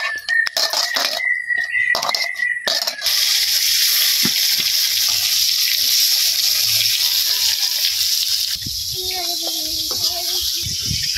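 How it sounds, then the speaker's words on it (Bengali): Fish frying in a pan, a loud continuous sizzling hiss that runs for several seconds close up, preceded by a few clanks and followed by a person talking over the fading sizzle. "তো দাদা ভাই দিদি ভাইরা মাছগুলো ভাজি চলতেছে।"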